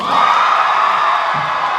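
An audience at a cosplay contest lets out a loud, sustained burst of cheering and shouting, a dense crowd roar held steady throughout.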